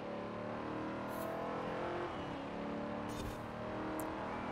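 An older Australian Holden car engine drives steadily in the racing game Forza Horizon 4, a continuous loud engine drone with shifting revs and no talk over it.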